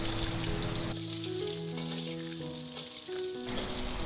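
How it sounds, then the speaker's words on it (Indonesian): Sliced shallots fry in hot oil, giving a continuous close crackling sizzle that holds steady throughout, with faint tonal music underneath and no voices. "panaskan minyak, masukkan bawang merah yang udah kita potong-potong. Goreng hingga bawang merah harum dan layu."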